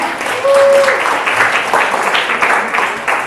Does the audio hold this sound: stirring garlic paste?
no